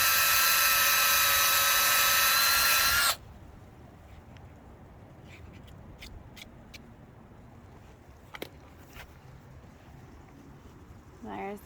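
A drill fitted with a maple tapping bit bores a tap hole into a frozen maple tree, a loud high whining drone lasting about three seconds that stops abruptly, followed by quiet outdoor rustles and small clicks.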